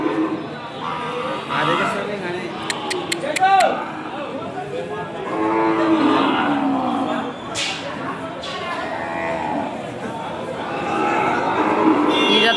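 Ongole calves at a Sunday cattle market in Kodad give low moos amid crowd chatter, with people talking nearby throughout.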